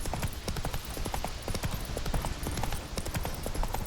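Roach the horse galloping in The Witcher 3: Wild Hunt, with rapid rhythmic hoofbeats that run steadily throughout, close and clear over a faint background.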